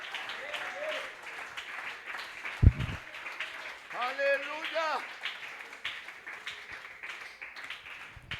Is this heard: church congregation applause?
yes